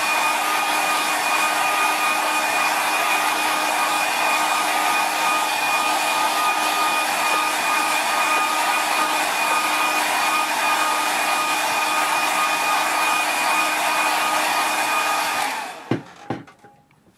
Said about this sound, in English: I'll just give that a quick dry